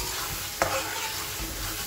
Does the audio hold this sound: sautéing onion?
yes